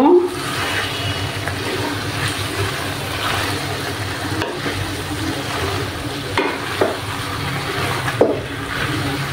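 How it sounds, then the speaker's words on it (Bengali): Cabbage frying in a pan in a fish-head cabbage dish, with a loud continuous sizzle and scraping stirring strokes throughout, punctuated by a few sharper clacks of the spoon against the pan. "এবার আমি বাঁধাকপিগুলো দিয়ে দেব। এবার ভালোভাবে নাড়াচাড়া করব।"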